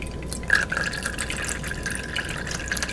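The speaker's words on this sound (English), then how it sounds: "It is straining really well." Hot melted beeswax strains through cloth into a preheated crock, a close, steady trickle and patter of liquid with small drips and splashes and no talk.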